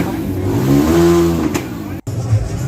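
Motorbike and car engines rev loudly up close at the Sahalpura Moto Festa in Sri Lanka, with one engine climbing sharply in pitch before a sudden cut and a brief rumble after it. Voices are mixed in.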